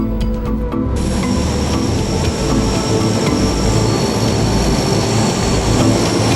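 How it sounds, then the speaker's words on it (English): A Lockheed C-130 turboprop aircraft takes off in the early morning, a loud, steady engine roar with a droning whine that fills the whole stretch, heard close and alone. "It's early morning and time for the C-130 to take off."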